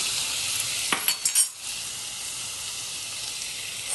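Chicken sizzles in a pan with mint, a steady hiss broken partway by a few quick stirring clatters and a brief dip, then an even sizzle again, with no voices.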